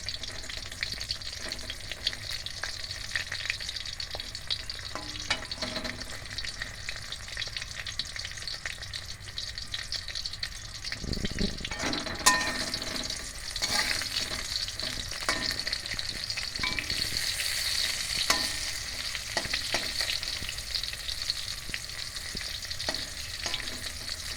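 Pointed gourd pieces fry in hot oil with a steady, soft sizzle, punctuated by occasional stirring clinks and a brief louder crackle.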